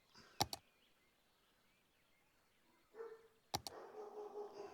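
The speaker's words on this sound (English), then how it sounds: "sorry about the barking, everybody." A dog barks in two short bursts, a quick pair near the start and another pair later, fairly close but not loud, with low background noise and some rumbling sounds between the barks.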